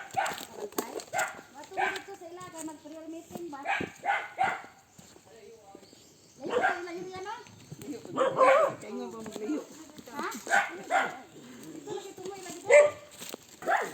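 Several sharp dog barks ring out at moderate distance along a wooded rural path, interspersed with quieter gaps while people walk and chat nearby.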